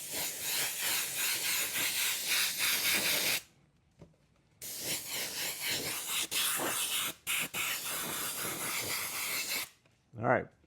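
Light coats of fluorescent yellow spray paint go onto an ARRMA Mojave Grom RC car body in long hissing bursts. A short pause comes near the middle, a brief break follows, and a final quick spurt ends it.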